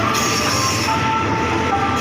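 Express train 112 rolls steadily past at close range, a loud continuous rumble of wheels on rails with faint squeals over it, and no voices.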